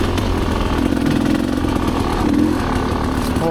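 Rieju Ranger motorcycle ridden along a single-track dirt trail, its engine droning loud and steady throughout with slight throttle swells, close to the rider.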